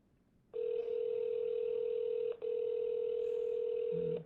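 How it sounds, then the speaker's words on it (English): Steady telephone line tone while calling a senator's office, a long continuous tone broken by one short gap, then a low brief tone at the end; no talk. "We're going to try Senator Hagerty since Marsha Blackburn's office doesn't like to answer the phone anymore."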